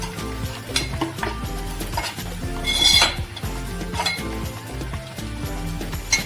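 A spoon stirs masala mix in a metal pan for a Maharashtrian suran and prawn rassa bhaji, with repeated sharp clinks and scrapes over a low sizzle, close and fairly loud, without speech.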